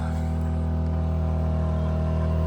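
An AiVolt 1600 (AGen1600c) portable generator runs at a steady idle under about a 1,000-watt load, a constant low droning hum with no breaks and no talk over it.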